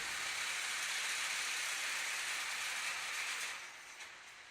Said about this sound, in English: Sorry about the noise, that's the heater.